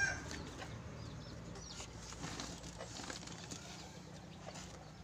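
Bantam chickens cluck softly in a coop against a dense, steady background of other fowl and birds, with no clear talking.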